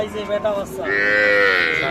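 A cow at a village cattle market in Bangladesh gives a short rising call followed by a long, loud, drawn-out moo up close, alone without talk.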